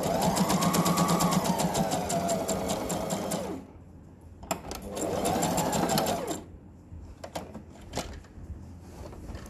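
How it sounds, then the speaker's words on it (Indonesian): Sewing machine stitching fabric for a men's koko shirt, running in two loud sustained bursts with a rapid mechanical chatter, separated by pauses filled with small handling clicks. "Nah kita jahit setengah senti setelah garis yang jahitan yang tadi"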